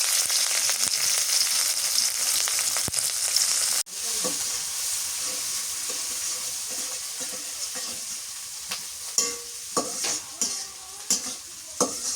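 Chopped onion and green chilli frying in oil in a pan, a loud steady sizzle that briefly drops out then returns, followed by stirring scrapes and clinks from a spoon against the pan, no talking.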